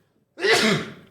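A single close sneeze bursts out from one person during a podcast roundtable conversation, sharp and loud, preceded by near silence and trailing off over about a second.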